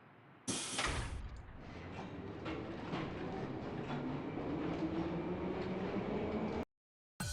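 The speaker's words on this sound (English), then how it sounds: "Isn't that the train the representative's daughter is supposed to be on?" A train rolls through a station platform in a Trails series video game, a loud steady rumble with faint clickety-clack that runs several seconds before cutting off abruptly.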